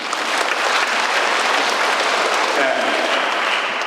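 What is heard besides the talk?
audience applause at a lecture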